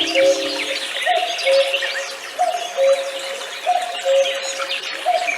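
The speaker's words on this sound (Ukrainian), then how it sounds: "Зозуленька куку, куку ку" Cuckoo-like bird call repeated in a steady two-note pattern over a busy chorus of chirping birds, clear and moderately loud, with no talking.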